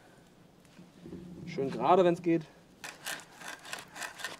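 A drill bores a hole into a wooden branch at a bushcraft camp, making a short burst of rhythmic rasping scrapes. Someone speaks just before the drilling starts.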